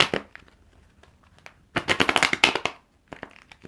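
Tarot cards being shuffled in a burst of crisp, papery riffling and slapping, a few scattered flicks at first, then a dense loud run of card noise before trailing off.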